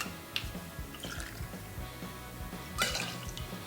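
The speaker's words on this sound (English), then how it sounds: "Then we're going to use 2 ounces of our vodka." Vodka is poured into a cocktail shaker for an espresso martini, a faint, soft liquid trickle and drip with a few light clinks, quiet and close.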